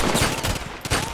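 A quick burst of sharp gunfire in the online shooter Contract Wars, attributed to a Colt Python Elite revolver, cracking twice in close succession over a busy background.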